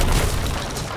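A rocket explosion in Sea of Thieves lands as a loud, dense low boom that fills the second and slowly tails off, with no voices over it.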